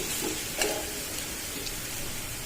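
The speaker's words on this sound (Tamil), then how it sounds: "அதில் சோகை போட்டு பொரிஞ்சோன்னே வெங்காயம் பூண்டையும் போட்டு நல்லா வதக்க வேணும்." Onion and garlic sauté in hot oil after mustard seeds have spluttered, giving a soft, even sizzle with a few faint pops, close by and steady, without any talking.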